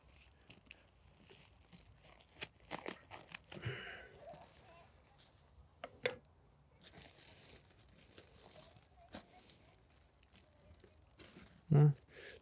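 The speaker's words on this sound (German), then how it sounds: "machen wir den Sack mal auf." A plastic sack of bought earthworms is opened in a garden, giving soft scattered crinkling and rustling with a few sharper crackles and one louder rip near the end.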